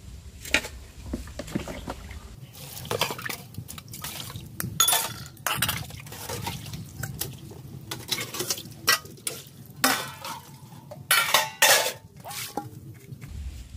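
Dishes, pots and pans are being washed by hand, with repeated clinks and clatters of metal utensils, splashes of water and scraping, close and moderately loud, with no talking.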